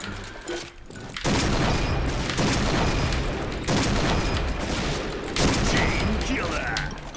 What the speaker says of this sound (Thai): โอ้โหยิงมาหลายนัดอยู่เหมือนกันนะเออ นี่ยยิงโดนสักทีกว่าจะยิงโดน